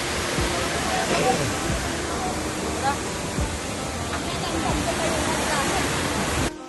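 Steady, broadband rush of water flowing at Wawa Dam, loud and continuous throughout, like water pouring heavily over a dam, with faint murmurs in the background.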